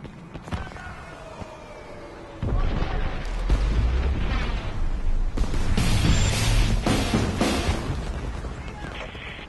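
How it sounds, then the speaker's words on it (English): Airstrike explosions in Homefront multiplayer combat roll in as a heavy rumbling barrage of booms and blasts, loud and sustained, with voices and gunfire mixed into the chaos. "Enemy airstrike incoming."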